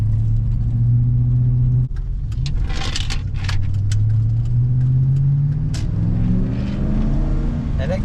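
A Chevrolet Silverado GMT800 pickup with a 5.3 engine and aftermarket exhaust tips, raised on a lift, gives a loud, deep exhaust rumble that rises and falls with revs, with a brief dip and metallic jingling over it.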